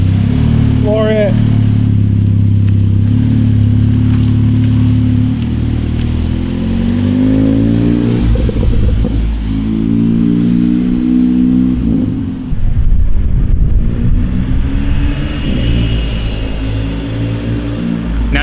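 A Volkswagen Jetta with manual steering accelerates hard, its engine loud and close as the pitch climbs steadily through the gears for several seconds, then surges again.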